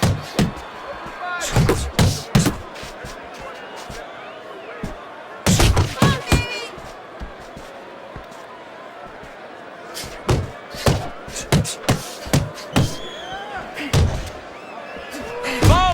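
Punches landing in Fight Night Champion boxing, sharp slamming thuds in quick flurries and isolated single hits, some loud and close, over crowd noise and a commentator talking throughout.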